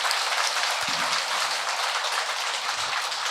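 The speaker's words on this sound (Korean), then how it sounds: "우리 박수 한번 보내주십시오." Audience applause fills a Buddhist temple hall in Seoul during the 28th anniversary ceremony of Gilsangsa, a dense, steady crowd clapping that holds at the same level for the full few seconds.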